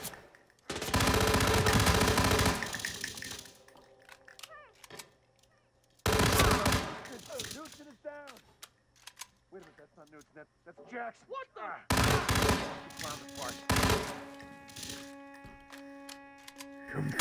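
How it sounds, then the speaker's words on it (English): Bursts of machine-gun fire in the Hitman 3 video game come in three loud, dense volleys separated by quieter gaps of game effects and voices, with people talking over the action. "Get the machine gun."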